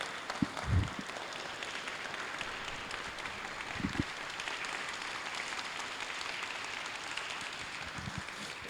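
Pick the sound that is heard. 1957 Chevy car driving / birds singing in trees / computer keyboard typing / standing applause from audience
standing applause from audience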